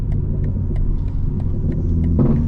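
A 2025 BMW M4 Competition, unlocked and tuned, driving through city streets in Atlanta, a close, deep, steady engine rumble with faint rhythmic ticking above it and a slight rise near the end.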